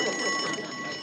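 A telephone on a rural party line rings with a steady bright electric bell tone, loud and continuous with no talk over it.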